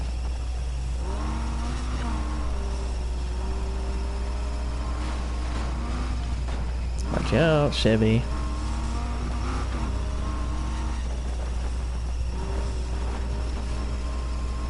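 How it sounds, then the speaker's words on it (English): A badly damaged, rough-running car engine in the racing game Need for Speed Heat drones steadily, with a loud burst of revving near the middle; a voice talks over it. "you guys can hear my car is in really bad shape. Like, it sounds like the most oldest beater in the entire world right now."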